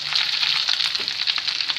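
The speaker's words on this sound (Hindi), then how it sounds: "आप ऑयल का तड़का लगा दें।" Hot oil tempering (tadka) for moong masoor dal sizzles steadily in a pan, a close, continuous crackling fry with no voices over it.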